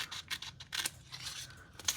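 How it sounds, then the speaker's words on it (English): Small scissors snipping through a paper tag in a papercraft session, a series of close, crisp cuts in an uneven rhythm, quiet and without talk. "same process with my little scissors. I'm just going to cut to the top of that line where I stopped"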